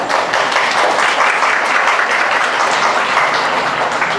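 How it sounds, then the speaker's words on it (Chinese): Sustained applause from the audience at a Catholic private kindergarten graduation ceremony, a steady dense wash of clapping that stays loud and even from start to finish. "请热烈的掌声"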